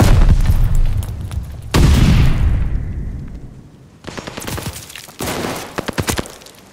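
Bursts of gunfire ring out at a contested hardpoint in a video game, loud and close, with a heavy opening volley, a lull, then renewed rapid shots.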